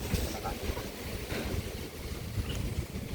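Strong wind buffets the microphone in continuous rumbling gusts, with a noisy, rushing roar throughout.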